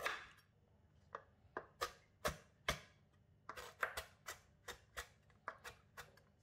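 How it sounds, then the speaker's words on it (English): A knife cuts peeled galangal into pieces on a board, a string of about fifteen sharp, separate chops at an uneven rhythm, close and fairly quiet with no talk. "Peel the galangal and cut into pieces."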